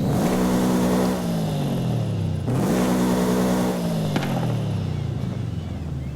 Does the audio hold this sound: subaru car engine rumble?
yes